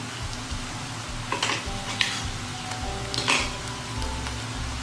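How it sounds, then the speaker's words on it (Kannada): Ginger garlic paste fries with browned onions in a pan, sizzling steadily up close, with a few spoon scrapes and stirring clatters. "ಒಂದೇ 1 ನಿಮಿಷ ಇದ್ರ ಹಸಿ ವಾಸನೆ ಹೋಗೋ ತನಕ ಇದರಲ್ಲೇ ಫ್ರೈ ಮಾಡಿ"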